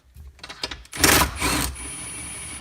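Nut being loosened with a power tool on a Ford steering column shifter, a loud whirring burst of about a second followed by a shorter second burst, after faint clicking and handling noises.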